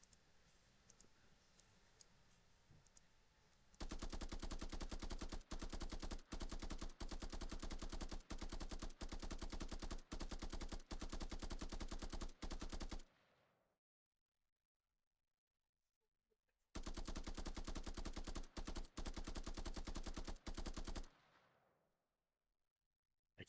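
Rapid automatic gunfire at ten rounds per second from a test weapon in an Unreal Engine 5 third-person shooter, loud evenly spaced shots in two long sustained bursts separated by a silent gap.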